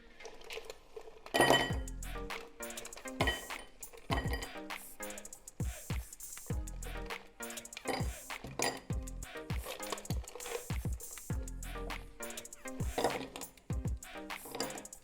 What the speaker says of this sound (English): Now we need a rocks glass. Fill it with ice.